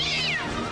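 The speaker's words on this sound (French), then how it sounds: "il y a Dredd qui arrête pas de miauler" A cat gives one clear, drawn-out meow with a falling pitch, heard close and fairly loud over a low background hum.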